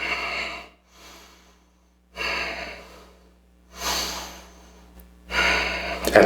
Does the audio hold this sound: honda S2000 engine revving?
no